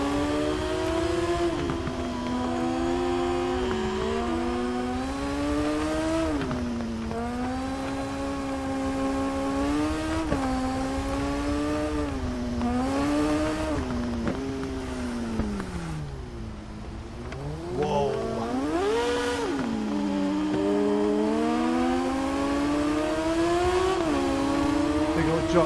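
In TT Isle of Man, a motorbike engine rides on a sustained, wavering whine that rises and falls with revs, dips sharply as two gears drop at once, then climbs back to a loud high-revving howl.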